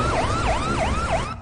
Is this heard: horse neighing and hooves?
no